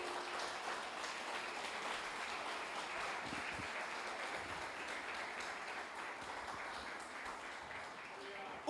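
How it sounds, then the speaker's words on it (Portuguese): A church congregation claps in praise during a sermon, producing a steady, moderately distant wash of applause that holds evenly for several seconds without speech. "Dê um aplauso forte ao Rei."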